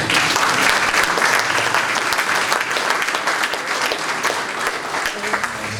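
An audience at a memorial gathering breaks into loud, dense applause that carries on steadily throughout, with many hands clapping together and a few voices mixed into the crowd noise.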